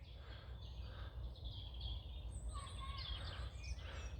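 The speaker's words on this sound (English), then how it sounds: "Listen to those birds." Birds sing and chirp faintly at a campsite at sunset, scattered high calls over a low background rumble.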